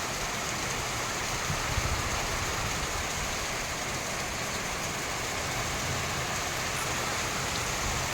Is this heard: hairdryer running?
no